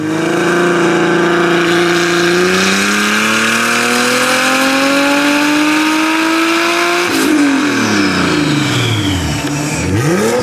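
A turbocharged car engine with no exhaust revs hard and loud, its pitch climbing steadily, then drops and surges again in sharp swoops, close by with no talking.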